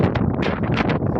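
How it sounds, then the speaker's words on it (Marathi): Strong wind gusting outdoors in a garden, a steady rushing roar with buffeting against the microphone and no voices over it. "चला खाली लय वारा सुटले."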